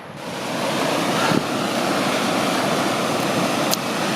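Creek water rushing over rocks at a trail crossing in the Desolation Wilderness on a backpacking trip to Sylvia Lake, a loud, steady broadband roar heard up close, with no voices.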